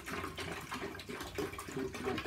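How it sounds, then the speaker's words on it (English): Tap water poured from a plastic bottle into the tank of an Amzdeal ultrasonic humidifier, a steady, close splashing gush that runs continuously without voices. "So first pour the water. I pour in water."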